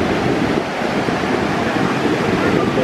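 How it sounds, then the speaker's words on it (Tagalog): Big ocean waves roll and crash continuously at the shore in San Diego, a loud broadband surf roar with wind buffeting the microphone. "ang lalaki ng alon"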